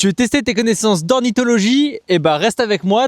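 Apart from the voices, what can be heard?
No everyday noises stand out.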